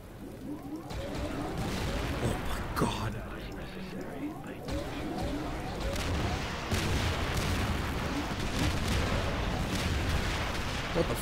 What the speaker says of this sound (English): Tanks, fire!